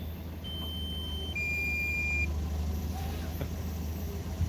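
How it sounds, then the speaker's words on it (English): Several electronic beeps from a drone's remote controller at steady pitches, a couple overlapping, over a constant low motor hum and outdoor rumble. "the remote beeping at me because it's not happy"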